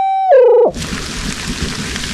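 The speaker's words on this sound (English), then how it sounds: "Got a big band of rain right. I think that's coming right for us." A short tonal electronic beep drops in pitch, then heavy, steady rain from an Iowa thunderstorm rushes in and continues loudly to the end.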